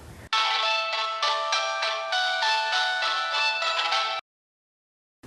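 A mobile phone in a Pakistani TV drama plays a bright, musical ringtone for about four seconds, loud and close, then cuts off abruptly into silence.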